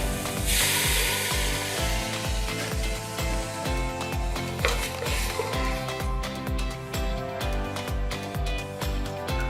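Onions and vegetables sweating in a pan with a splash of stock: a soft, continuous sizzle with light stirring and scraping, set under a steady, loud background music track with a regular beat.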